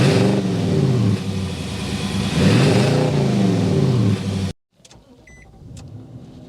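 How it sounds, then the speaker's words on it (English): A 2024 Nissan Titan SV pickup's V8 runs loud and close, revving up and down in a deep, throaty exhaust note that rises and falls several times before cutting off abruptly, leaving near silence. "so you can hear that exhaust note."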